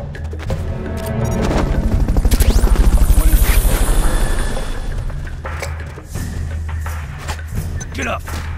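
The Fulton recovery helicopter in Metal Gear Solid Peace Walker thumps with a steady rotor beat that swells loud and then fades, mixed with booms and bursts of gunfire during a base infiltration.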